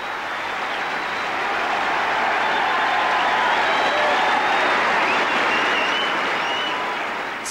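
A large tennis crowd at the 1992 French Open applauds steadily as McEnroe leaves the court, a dense, sustained wash of clapping that swells and holds for several seconds with no talk over it.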